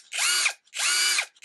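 A LAZYLAND 21V brushless impact driver spins up in two short bursts, a high whirring motor sound with a brief pause between runs, close and clear.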